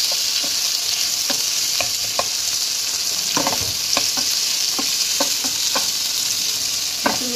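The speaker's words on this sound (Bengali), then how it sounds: "এই সময় প্রনগুলো আমি একটু ভেজে নেব। হালকা ভাজবো, প্রন বেশি ফ্রাই করবো না।" Prawns sizzle in hot oil in a pan as rice pulao is prepared, with a steady frying hiss broken by repeated clinks and scrapes of a spoon stirring.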